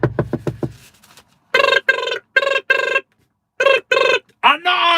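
A telephone rings in quick repeated bursts, then a voice imitates the ringing in a series of loud, evenly spaced tones with short gaps between them.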